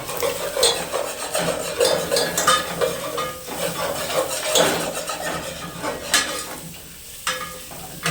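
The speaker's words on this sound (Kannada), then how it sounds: "ಫ್ರೈ ಮಾಡ್ತೀನಿ ಅರ್ಜೆಂಟಿಗೆ ಮಾಡ್ತಿರೋದು" Food frying in a pan while being stirred briskly, a busy, close clatter of utensil scrapes and knocks over a continuous sizzle.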